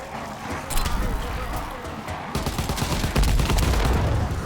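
Dense bursts of game gunfire aimed at a zeppelin in the Call of Duty WW2 Zombies mode, continuous rattling shots with booming impacts that grow heavier in the second half, loud and close.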